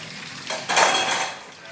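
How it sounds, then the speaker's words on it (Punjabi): Dishes being washed under running water in a village home, a short burst of clattering pots and splashing water lasting about a second, close and fairly loud. "ਪਹਿਲਾਂ ਭਾਂਡੇ ਸਾਫ਼ ਕਰੀਏ"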